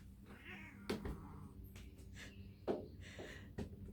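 A large, heavy male cat lying on its back while being held lets out several protesting meows and caterwauls, up close and fairly quiet, with rustling and handling noise between cries.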